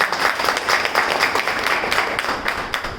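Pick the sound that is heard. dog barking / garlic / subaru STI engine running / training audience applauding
training audience applauding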